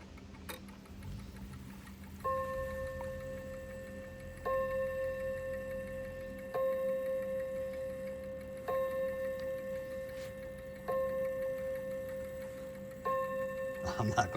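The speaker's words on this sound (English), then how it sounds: "Should be a single gong. There we go. And then when we move up here, it should hit 11 times." An antique clock strikes gong chimes, ringing six evenly spaced, resonant strokes with long sustaining tones over a faint background hum.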